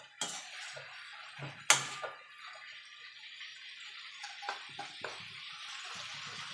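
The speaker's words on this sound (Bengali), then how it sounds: "আলুটা দিয়ে মশলার সঙ্গে একটু কষিয়ে নেব।" Small new potatoes being sautéed with spices in a pan, giving light spoon scrapes and clinks against the metal, one sharper knock and a soft frying hiss underneath.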